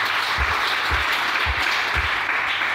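A church congregation applauds steadily throughout, a dense wash of clapping with soft rhythmic low thumps underneath and no voices standing out.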